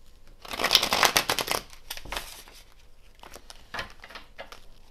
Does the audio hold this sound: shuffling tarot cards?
yes